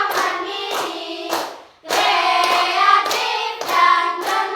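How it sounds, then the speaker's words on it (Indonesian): Schoolchildren in an elementary school class clap their hands together in loud, sharp bursts, a brief rhythmic pattern that pauses and then starts again, with no voices over it. "tepuk tangan untuk diri kita sendiri"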